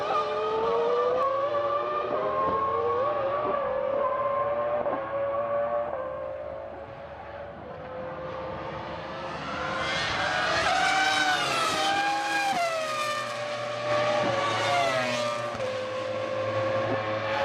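Formula One cars of the 2000 San Marino Grand Prix screaming past at Imola, high-pitched V10 engines rising and falling as they approach, pass close and fade, loud and continuous with a brief dip before another surge.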